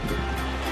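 Water pours steadily into an outdoor pool as a broad, rushing wash, close and continuous, with no voices.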